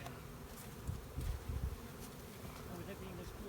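Honey bees buzzing while a package of bees is installed beside a hive on the ground in cool weather, a continuous close drone with a few louder passes up near the ear.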